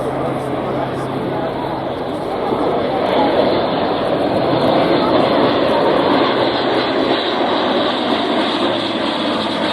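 Airbus A400M transport aircraft flying at RAF Cosford Airshow 2023, a loud continuous roar of propeller turboprop engines swelling slightly over nearly ten seconds, heard alone.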